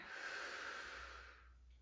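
A steady, close breath, likely an exhale through the nose, lasts under two seconds during a yoga goddess squat in a hip and hamstring flow, then fades to quiet.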